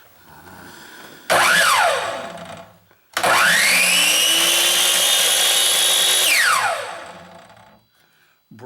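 A Craftsman miter saw motor spins up briefly and winds down, then starts again and runs at a steady high whine for about three seconds before braking to a stop, loud and close.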